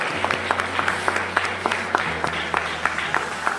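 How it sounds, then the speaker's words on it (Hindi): Audience clapping at a training session, a scattered burst of handclaps over a low steady hum, fairly close and continuous through the clip. "एक जोरदार ताली होनी चाहिए आप लोगों को"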